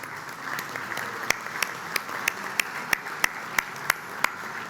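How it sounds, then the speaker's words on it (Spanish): Lunch guests at an ADM luncheon with the President of the Republic applaud in a dense, sustained roar, with sharper claps striking out at a regular rhythm near the listener. "este aplauso yo quiero dárselo al señor presidente de la República"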